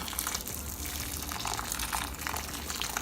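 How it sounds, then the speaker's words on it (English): Hot water poured from a kettle onto dry fish in a bowl, a continuous gushing, splashing pour held steady for a few seconds, close and fairly loud. "add hot water to my dry fish"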